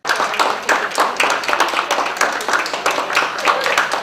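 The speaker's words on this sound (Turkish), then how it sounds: "hastane çalışanları tarafından alkışlarla evine uğurlandı" Hospital staff and family applaud as a baby is discharged to go home; close, uneven hand claps from a small group sound in a quick irregular rhythm, mixed with some voices.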